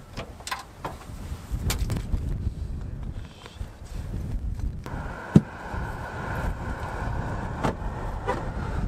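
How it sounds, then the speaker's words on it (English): A cold north wind blows steadily across Lobsterville Beach on Martha's Vineyard, a rough, roaring rush that persists throughout, broken once by a sharp knock midway. "It was a cold north wind that didn't seem to let up for the whole day."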